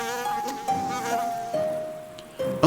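A small parasitic wasp on a cabbage leaf buzzes close up, its whine sliding downward in pitch in stepped stages, with faint rustling and a sharper click at the end.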